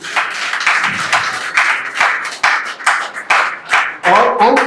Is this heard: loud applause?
yes